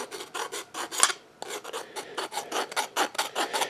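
A hacksaw cuts through metal in about a dozen quick, rhythmic back-and-forth rasping strokes, close and fairly loud. There is a brief pause early on before the steady sawing resumes.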